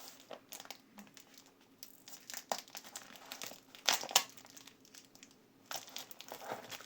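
Paper surprise packets are unpacked by hand, giving close, irregular crinkling and rustling with sharper tearing crackles, quiet between bursts and with no talking.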